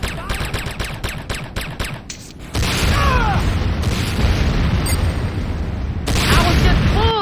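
Heavy booming explosions and gunfire crackle erupt during an attack on the GDI infantry barracks in the shooter game Renegade, loud and dense after a lighter stretch of shots, with a voice speaking over part of it.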